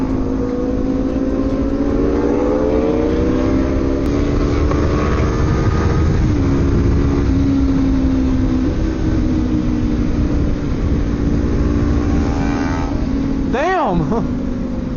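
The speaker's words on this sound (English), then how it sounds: "Yeah, we got some Harleys behind us." Loud, steady motorcycle engine and wind roar during a group street ride, with Harley-Davidsons riding behind, sustained throughout with a rising rev sweep near the end; voices talk over it.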